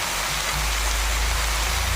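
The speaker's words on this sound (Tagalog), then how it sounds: "Lalagyan natin ng tubig." A steady rushing splash of water pouring continuously into a cooking pot of sautéed wild mushrooms, close and fairly loud, with no voices.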